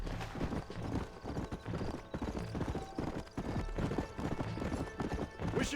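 A horse gallops in Red Dead Redemption, with rapid rhythmic hoofbeats close and steady throughout, and a brief whinny amid the clatter.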